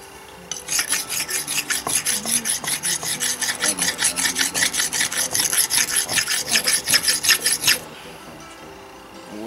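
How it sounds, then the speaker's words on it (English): Knife blade being sharpened in long, even rasping strokes, about two per second, steady and close for roughly seven seconds before stopping, with no talk. "what I'm going to do is basically start sharpening it"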